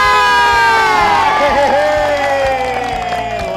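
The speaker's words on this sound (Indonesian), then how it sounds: "Mana tepuk tangannya?" A loud crowd cheers and shouts together in a sustained roar, rising and falling with a few sharp whoops, close and continuous.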